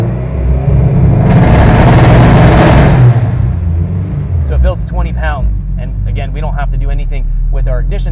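Supercharged Honda K20 engine in a Honda NSX revving up, a loud rising rumble that swells and falls back over a few seconds, followed by someone talking over the idle.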